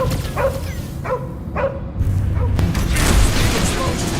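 A dog in Marvel's Guardians of the Galaxy video game gives three quick, close barks. A deep rumbling boom and louder game-action noise follow.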